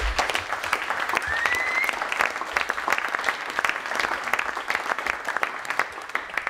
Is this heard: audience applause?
yes